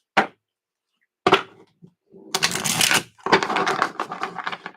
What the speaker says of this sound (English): I'm really enjoying shuffling for you.